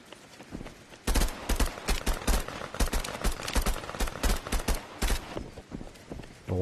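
Rapid, loud bursts of close gunfire in the VR shooter Contractors Showdown, with dense volleys of shots crackling almost without pause.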